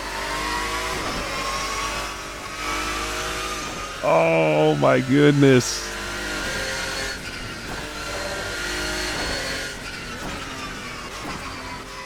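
Vintage GT race car engine in Assetto Corsa with a GT Legends mod, droning through gear changes, then a loud, aggressive rev burst in the middle before settling back to a steady drive; someone speaks briefly.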